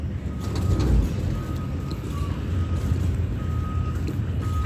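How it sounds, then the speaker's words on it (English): Intermittent high electronic beeps from a reversing vehicle sound over a steady low rumble of traffic and engine noise, moderately distant. "You hear that beeping?"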